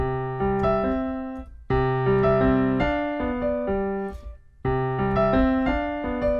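A piano plays a short melodic passage from a Pride & Prejudice piece, chords and single notes in a steady phrase repeated twice, clear and close with no talking.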